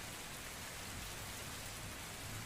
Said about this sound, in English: the sounds of the rain, kind of clattering against the rooftops and the ground beneath you